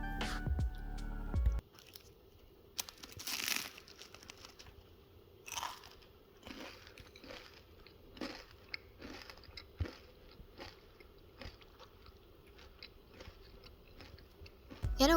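Crunchy air-fried vegetable spring roll bitten and chewed close to the mic, with a series of crisp crackling bites and crunches spread across a quiet room, brief voice at the start.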